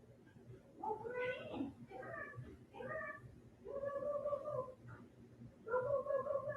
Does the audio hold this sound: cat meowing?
yes